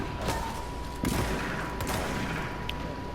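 Shotgun blasts in a console shooter game, Control, come as a few sharp reports spread across a dense, noisy bed of in-game effects.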